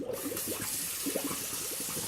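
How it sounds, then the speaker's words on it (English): A sink tap runs and fills with water, a steady hissing stream with soft bubbling underneath, fairly quiet and heard alone. "Turn on your sink again."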